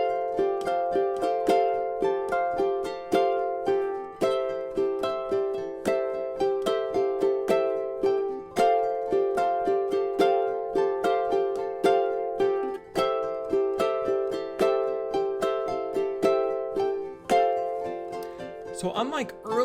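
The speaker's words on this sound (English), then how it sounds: "let's go ahead and listen to what this strumming sounds like with the backing track." Ukulele strumming high up the fretboard in a steady rhythmic chord pattern over a backing track, loud and continuous throughout.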